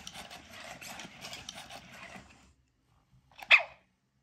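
A dog gives a single sharp, fairly close bark after a stretch of low rustling and quiet.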